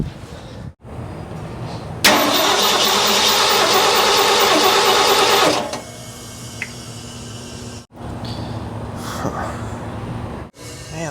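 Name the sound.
1970 Ford engine cranking and trying to start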